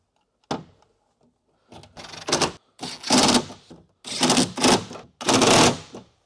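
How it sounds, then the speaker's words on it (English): A new car speaker is fitted into a Toyota Tacoma door, with a sharp knock followed by several loud bursts of rattling, scraping and fastening noises, close and separated by short pauses. "Now our new speaker will bolt in the identical position."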